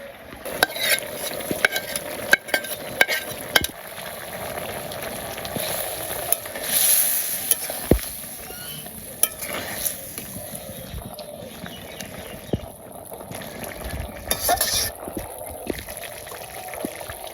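Small fish added to a nearly finished curry of Malabar spinach stems in a village kitchen: continuous stirring and sizzling with scattered utensil knocks, close and steady throughout.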